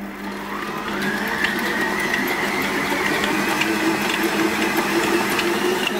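A stand mixer with a dough hook kneading dough at third speed, a steady loud motor whine with a rising pitch and a continuous grinding churn, held evenly for several seconds.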